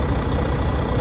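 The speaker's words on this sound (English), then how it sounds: "So we're going to go ahead and start the truck." Heavy truck engine idling steadily after startup, a continuous low rumble filling the whole moment at close range with no talk over it.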